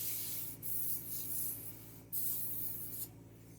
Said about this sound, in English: I'm going to dial in my airbrush here